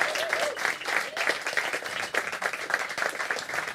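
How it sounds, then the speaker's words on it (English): A restaurant audience applauds the kitchen team during a lunch performance, steady dense clapping that fills the whole stretch at moderate volume, with no one speaking over it. "I think we should have a round of applause for Steve and the whole kitchen team"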